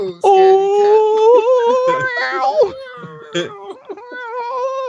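A voice imitates a cat's yowl, drawn-out wavering wails rising and falling, with a few breaks and sharper cries, loud and close.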